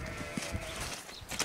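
Sheep bleating outdoors at a bog, a short wavering call heard fairly close over background noise.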